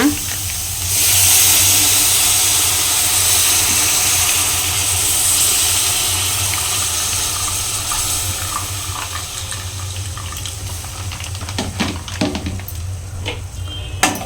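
Milk poured into a hot pan in a home kitchen, a steady broadband hiss rising about a second in and carrying on evenly, easing slightly toward the end.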